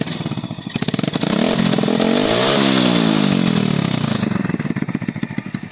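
A motorcycle engine fitted with a new DBS exhaust pipe revs up from a rapid idle putter into a loud, rising roar, holds, then drops back to a fast popping idle through the exhaust.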